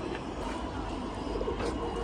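Pigeons in a pigeon loft give soft, low cooing calls over a quiet background hum.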